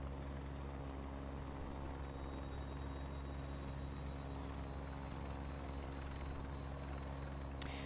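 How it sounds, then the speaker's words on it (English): A helicopter in the X-Plane 11 flight simulator drones with a steady low rotor hum and engine tones, continuous and fairly quiet, with a brief click near the end. "The chopper on my headphones is quiet, but it sounds pretty good"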